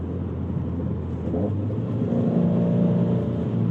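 Subaru WRX STI in sport mode pulling in second gear from a slow roll, a steady engine drone that swells and rises in pitch as it accelerates, heard from inside the cabin with no talking.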